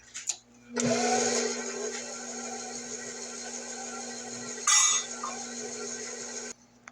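An electric mixer on low speed blends the last flour into cream cheese pecan pound cake batter, a steady close motor whir that starts abruptly, surges briefly midway, and cuts off near the end.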